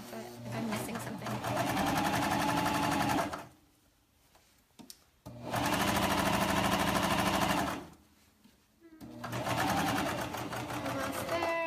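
A sewing machine stitches a seam on a pair of joggers in two loud, steady runs, with a short pause and soft handling clicks between them and a third run starting at the end. Talk comes through faintly.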